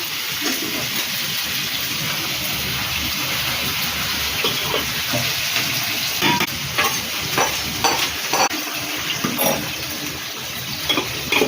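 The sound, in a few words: capsicum frying in oil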